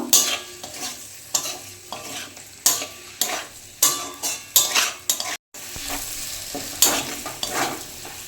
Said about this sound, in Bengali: এবার ভেজে রাখার আলুটা দিয়ে দিচ্ছি আমি, ভালোভাবে নেড়ে করে নেব